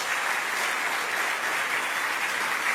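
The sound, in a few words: applause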